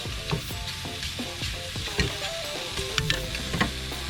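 Shrimp blackening in a hot pan give a steady close sizzle, broken by sharp clinks and scrapes of a utensil stirring at irregular intervals; no voices.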